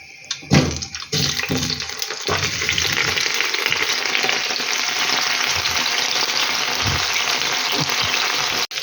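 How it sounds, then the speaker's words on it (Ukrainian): Steady sizzling and crackling of new potatoes frying in a frying pan, loud and close, with a few clatters at the start. "картопелька вже обсмажується гарнесенько"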